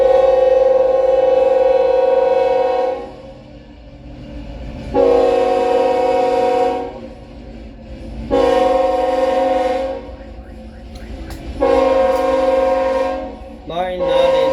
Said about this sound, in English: Let's wait for the train to pass.